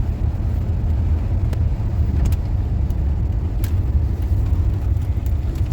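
A Ford F-150 Lightning truck drives along, heard as a heavy, continuous low road rumble inside the cab with occasional faint clicks and rattles, and no talking.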